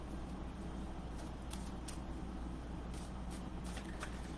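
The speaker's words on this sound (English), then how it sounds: "So as I shuffle these cards," Soft, rapid tarot card shuffling riffles in quick bursts against a low, steady background hum, fairly faint and close.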